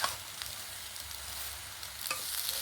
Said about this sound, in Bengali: এবারে আগে থেকে জল ঝরিয়ে রাখা পাস্তাটা এর মধ্যে নিয়ে নেব। মশলার সঙ্গে খুব ভালো করে একটু নেড়ে চেড়ে মিশিয়ে নেব।